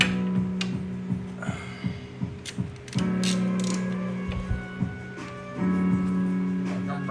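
A ratchet wrench works a 17mm oil drain bolt on a 2001 Yamaha Road Star motorcycle, close repeated clicking ratchet strokes in uneven runs with a creaking tone, interrupted by brief pauses.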